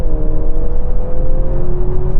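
A Mercedes GLC SUV accelerates hard from a standstill launch, its engine note climbing steadily in a loud, continuous drone heard from inside the cabin.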